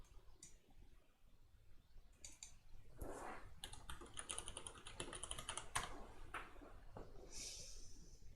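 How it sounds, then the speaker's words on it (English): A computer keyboard is typed in short irregular bursts, close and faint, with a few scattered clicks between the runs of keys. "Let me type in anything."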